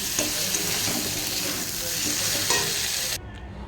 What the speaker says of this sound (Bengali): এবার আমি জল দিয়ে দেবো